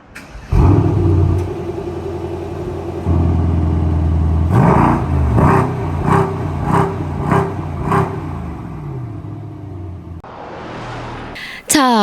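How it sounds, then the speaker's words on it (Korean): A Mercedes-AMG S63 convertible idles with a deep exhaust rumble, then revs sharply several times in quick bursts before a final roaring rev, loud and close. "배기음 듣고 가시죠."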